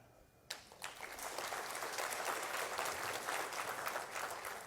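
Conference audience breaking into applause, starting with a few sharp claps that quickly swell into a full, steady round of clapping from a large hall, fairly faint and distant, without talk.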